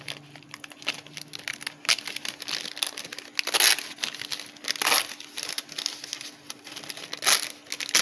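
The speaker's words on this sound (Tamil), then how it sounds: "இந்த ஷீட்டில் ஒரு சின்ன வால் ஹைட் திக்னஸ் எடுத்துக்கிட்டு பேப்பர் கிழிச்சுக்கிறேன்" Baking paper is crinkled and torn by hand to line a cake tin for an eggless sponge cake. A steady run of close, dry crinkling and rustling with a few sharper rips, and no talk.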